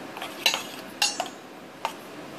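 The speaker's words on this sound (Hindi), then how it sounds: "ये ड्राई मसालों को हम अच्छे से मिक्स कर लेंगे" A spoon mixes dry pickle masala spices in a bowl. There are a few sharp metallic clinks and taps, about three distinct knocks against quiet background, close and fairly faint.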